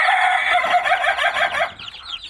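Farm chickens of Bangkok and kate breeds crowing and clucking together, a dense, loud burst of overlapping calls close by that thins out toward the end, no voices.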